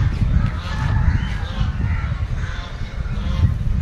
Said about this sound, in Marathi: आता इकडून कावळ्यांचा आवाज येतो,